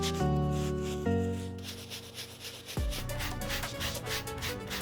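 A medium bristle brush scrubs a Virgil Abloh Archive x Air Jordan 1 "Alaska" sneaker in a continuous close rasping rub, with a sustained humming tone that shifts partway through.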